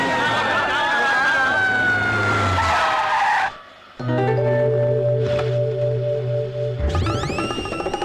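A vehicle speeds off in a comedy film scene: tires screech and an engine revs, then the motor settles into a steady drone. A sharp rising whine closes the scene.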